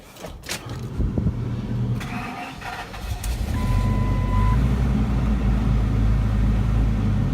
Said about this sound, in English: I'm gonna start it up, and I'm gonna work the crane, compressor, and I'll start the welder up.